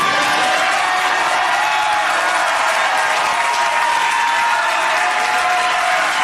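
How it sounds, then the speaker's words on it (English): An audience at a political gathering stands, applauding and cheering in a room, a sustained loud roar of clapping with scattered whoops that stays steady throughout. "Everybody's standing and cheering for this guy."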